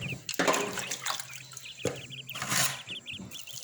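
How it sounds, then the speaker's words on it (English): Water splashes and trickles into a cooking pot over cut sweet potato pieces, with a steady liquid pour and gurgles at moderate loudness and no talk. "We'll just put water enough for it to cook."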